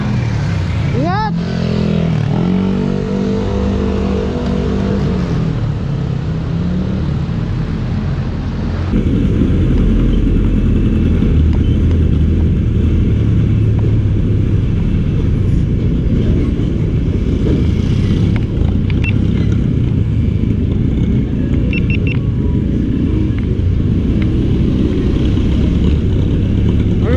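Motorcycles ride along a street sidewalk during a traffic clearing operation, giving a loud, continuous engine rumble with revving, close and sustained, with people talking over it.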